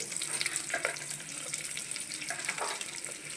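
Onions frying in hot oil with cumin, fenugreek, mustard seeds, dried red chillies and lentils for a tangy black-eyed pea curry, giving a steady close crackling sizzle with light scraping stirs, no voices.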